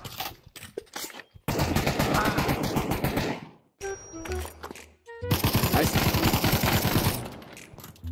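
Gunfire in a modded Minecraft game comes as long, dense, rapid bursts of loud shots, broken by a short pause where other game sounds and a voice come through.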